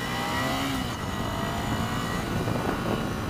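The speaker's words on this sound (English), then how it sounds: "let's have another crack at the acceleration on this thing" A Ducati Scrambler accelerating hard up a road on-ramp gives a loud, continuous engine roar that holds steady throughout, with no speech.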